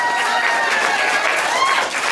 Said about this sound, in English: Let's give him a big hand of applause.